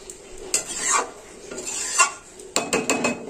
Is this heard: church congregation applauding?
no